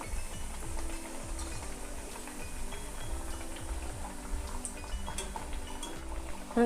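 Carrot and roasted gram dal vadas fry in oil in a pan, a steady close bubbling sizzle with light clinks and scraping of a utensil throughout.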